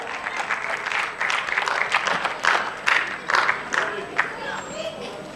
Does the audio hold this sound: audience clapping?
yes